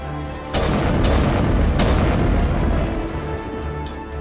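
A video game explosion in Mass Effect, a loud deep boom that bursts in, rumbles for a couple of seconds and then slowly fades.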